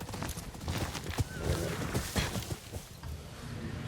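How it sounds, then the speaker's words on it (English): A horse in Ghost of Yotei trots up with quick hoofbeats and gives a short whinny, close and fairly loud amid a busy game soundscape. "Call my horse over."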